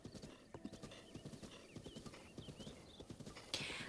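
Steady clip-clop of horse hooves from a horse in the video game Zelda: Breath of the Wild, a brisk even rhythm up close, with a brief whinny-like burst near the end and no talking.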